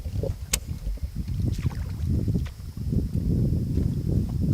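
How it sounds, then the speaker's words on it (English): A boat on open water nearby, its low rumbling hum steady under wind buffeting the microphone, with a few brief splashes or knocks. "There's a boat over here."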